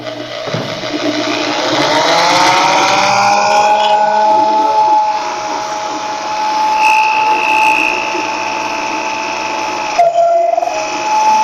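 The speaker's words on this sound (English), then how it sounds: "I'm going to go back to drilling. Drill a hole, put a bolt in." A power drill bores holes into a Super Late Model race car's ABC NextGen front bumper cover. It runs as a steady, loud, close whine, rising briefly near the start and holding a sustained pitch with a short break around ten seconds.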